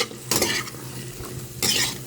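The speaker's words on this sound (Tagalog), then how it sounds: "Ang sitaw. Okay, igisa lang muna natin ito." String beans (sitaw) being sautéed in a pan, with two bursts of hissing sizzle and scraping as they are stirred, separated by quieter frying, up close.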